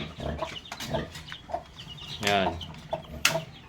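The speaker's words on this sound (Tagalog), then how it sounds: "Ating mga sisiw." Dong Tao cross Shamo chicks chirp and cluck in a farm pen, with scattered close calls and fowl noises alongside someone speaking.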